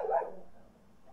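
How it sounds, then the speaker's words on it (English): A dog barks once outside, muffled and somewhat distant, and the sound fades quickly into quiet. "And the dog's barking outside"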